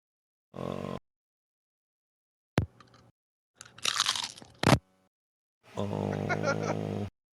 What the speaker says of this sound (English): Nice chip crunch.